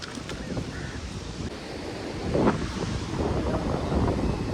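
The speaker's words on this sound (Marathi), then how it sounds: "हा सगळा बुरोंडीचा समुद्र किनारा आहे इकडे." Sea waves wash steadily onto the Burondi beach shore on the Konkan coast, near fishing boats, a continuous broadband surf roar with gentle swells and some wind noise on the microphone.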